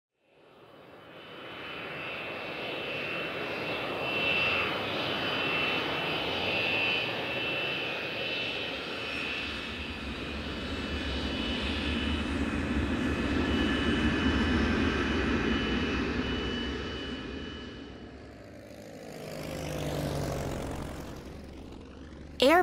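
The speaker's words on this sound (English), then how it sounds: "Airplane." A propeller airplane passes overhead, its engine drone swelling in over a couple of seconds, holding loud and steady, then fading away before a brief final rise, with no talk over it.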